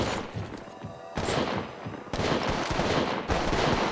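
An enemy squad fires on the player in Apex Legends Mobile: a dense, continuous stream of rapid gunshots and bursts, loud and close, overlapping with no break and no talking.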